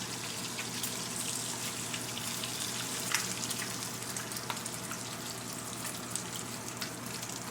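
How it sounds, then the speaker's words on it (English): Bacon crisping in a pan, a steady dense crackle and sizzle with scattered pops, close and continuous throughout. "Bacon getting a little crispy."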